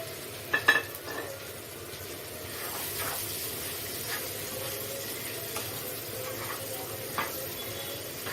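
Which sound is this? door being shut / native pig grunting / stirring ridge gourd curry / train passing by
stirring ridge gourd curry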